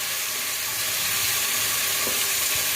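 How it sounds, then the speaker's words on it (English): Chicken fries in a pot over an African jiko, a three-stone firewood stove, giving a loud, continuous dense sizzle and hiss close up, with faint crackle beneath and no talking. "we're just going to show you how to cook chicken on an African jiko"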